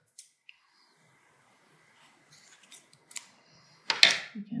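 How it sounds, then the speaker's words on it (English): Scissors snip crochet yarn with a few quiet clicks, then one louder, sharper cut near the end, with near silence between. "we can just cut the yarn"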